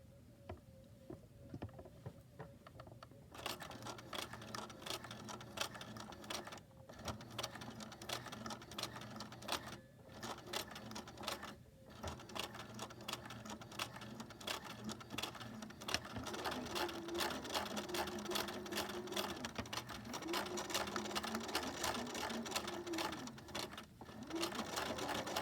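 Home sewing machine running steadily for a long stretch of basic straight stitching, loud and close, with a continuous rapid mechanical whir and brief pauses where the stitching stops and restarts.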